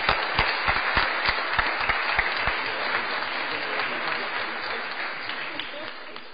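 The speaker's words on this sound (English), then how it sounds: "Let's give them one more big round of applause" Applause at a city board of aldermen meeting honors retiring participants, opening with a few sharp, distinct claps that blend into a steady, moderately loud round before gradually fading.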